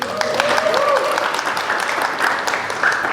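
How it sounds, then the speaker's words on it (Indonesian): A church congregation claps together in a steady burst of applause that lasts a few seconds, fairly close and moderately loud, with a few voices mixed in. "tepuk tangan."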